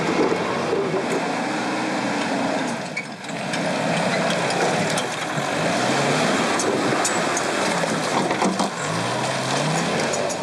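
A priest drives a car along a rough, nearly impassable dirt road in Papua, the engine droning steadily with rattling and bumping from the rough surface throughout, loud and close, with no talk.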